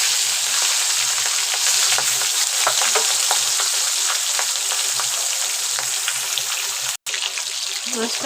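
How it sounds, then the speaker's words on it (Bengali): Fish fries in hot oil with a loud, dense, continuous sizzle, steady and close, with faint clinks over it and one brief break near the end. "তেল গরম হয়ে গেছে, আমি একটা করে মাছ ছেড়ে দেবো।"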